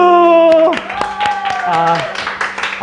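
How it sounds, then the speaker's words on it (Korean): A children's worship congregation at a church clapping, the applause scattered and rising over a sustained, sliding voice-like tone, with a voice also present. "네, 우리 박수."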